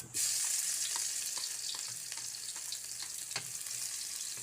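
Garlic sizzles and crackles steadily in a hot pan for a Filipino home-style stir-fry of beef tripe, close and continuous with small pops, and no voices.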